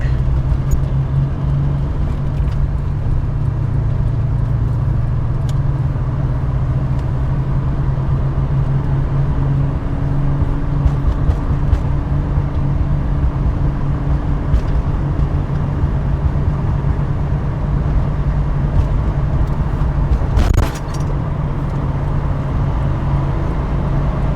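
Steady engine and road drone from a Toyota MK3 Supra with an upgraded Aisin oil pump as it merges onto an interstate, a continuous low rumble with a brief louder whoosh near the end.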